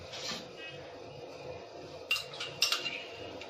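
Crushed ginger spooned into a pot, a few light metallic clinks and taps of a small spoon against the vessel, quiet and close over a soft background hum.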